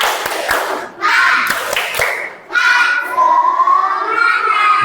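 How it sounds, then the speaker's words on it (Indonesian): A classroom of students performs a rhythmic patterned cheer clap, sharp group claps in short bursts with pauses, followed by voices chanting loudly together. "alangkah baiknya biar lebih semangat kita tepuk semangat dulu ya"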